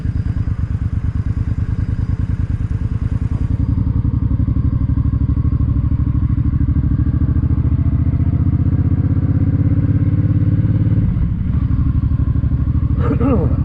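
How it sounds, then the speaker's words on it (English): A Suzuki M50 motorcycle is ridden around an airstrip, its engine chugging in a loud, steady, close putter throughout, with speech heard over it. "this is my first time riding this bike"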